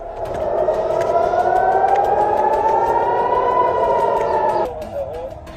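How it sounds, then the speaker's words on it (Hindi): An air raid siren in Israel wails loudly and steadily for several seconds, its tone slowly rising, then cuts off abruptly with faint background noise remaining. "पूरे इजराइल में हवाई हमलों से सायरन बज उठे"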